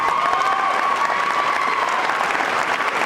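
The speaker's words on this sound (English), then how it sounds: "I applaud you, Brianna." Audience applause at a 2013 East Stroudsburg University commencement, a steady dense wash of clapping from a large crowd filling the hall without a break.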